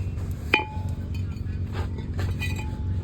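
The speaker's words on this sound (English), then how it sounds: "we're gonna go ahead, slide off the rotor" A brake rotor slides off the front wheel hub of a 2014-2019 Chevrolet Silverado 1500, with one sharp metallic clink and a faint ring, then light scraping against a low background hum.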